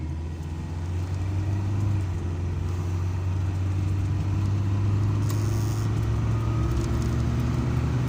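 A 1982 Toyota Corolla KE70 automatic, a bit loud and rattly and probably due a belt change, drives in traffic, its engine and road noise making a steady droning hum heard from inside the car.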